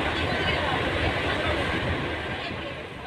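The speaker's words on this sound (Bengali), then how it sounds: "চলে এলাম জলের তলা দিয়ে গ্রিন মেট্রো করে।" Green Line metro train running underwater toward Howrah station, heard as a steady loud rumble of rolling carriages with a broad roar that eases slightly near the end, a faint murmur of passengers beneath.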